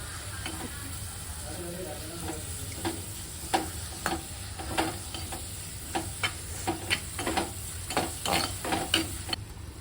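Tomatoes being stirred into a crab curry in a cooking pot, repeated scraping and clattering stir strokes over a constant sizzle, with faint talk in the background.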